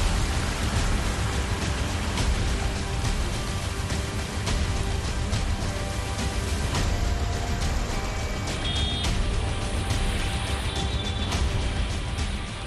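Heavy rain pours down in Delhi as a dense, unbroken roar of hiss. It stays steady and loud the whole time, with no voices over it.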